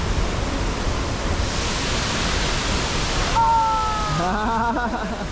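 Waterfall in the deep woods, a steady broadband rush of falling water filling the scene, with voices talking and calling out near the end.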